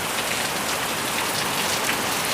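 Heavy rain pours steadily during a storm in Christchurch, a dense continuous hiss close by and fairly loud, with no voices over it.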